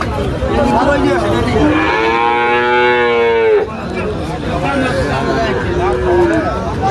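A calf at the Tepakhola cattle market in Faridpur gives one long, loud moo up close, surrounded by crowd babble and people talking nearby.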